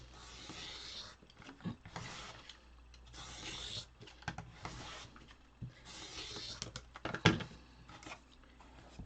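Scissors or a rotary cutter trimming fabric corners off a pieced Farmer's Wife quilt block, heard as a run of close, soft rasping cuts repeating in bursts, with no talking.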